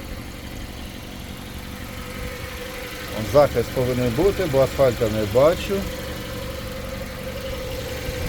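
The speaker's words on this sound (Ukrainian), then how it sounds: "2 літра бензинчик шелестить" A 2008 Kia Sportage with a 2.0-litre petrol engine idles with a steady, even hum from close by, while someone talks over it midway through.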